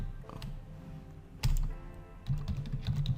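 Typing on a computer keyboard comes through as quiet, close clicks and taps in short irregular bursts with pauses between.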